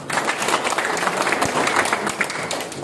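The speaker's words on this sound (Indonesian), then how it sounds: "Tepuk tangan Bapak Ibu." Audience applause fills a hall, many hands clapping densely and steadily, loud and close throughout.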